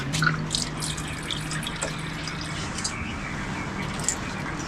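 Tap water running into a sink for washing up, a continuous splashing and trickling stream close by with small drips, and a voice talking briefly underneath.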